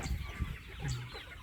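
Egg-laying hens cluck inside a poultry house, a few short clucks up close followed by a drawn-out low call, with soft rustling between.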